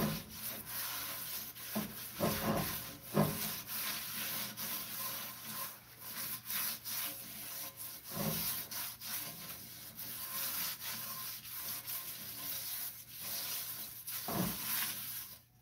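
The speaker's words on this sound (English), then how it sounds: "And I'll rub that in with the oil so that salt and that oil will kind of get down in that metal." Salt and oil are rubbed by hand into a metal pan, a steady scraping, gritty rubbing with rhythmic strokes and occasional louder swipes, close and moderately quiet, with no talking.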